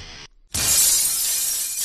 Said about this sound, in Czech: panu učiteli kytarou rozbila obrazovku